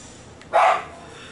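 A single sharp bark from a dog indoors in a home kitchen, one loud close yip standing alone against quiet room tone.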